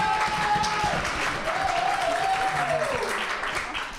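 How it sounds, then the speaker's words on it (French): Audience applause at an on-stage show at a 2006 Apple Expo in France, a steady wash of clapping that stays even and then eases slightly, with a voice talking over it. "Allez, à 3, ils étaient très bien, on applaudit."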